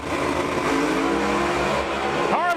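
An Outlaw Pro Mod drag race car roars down the strip at about 207 mph, its loud engine note climbing in pitch and then falling away, with a commentator talking over it.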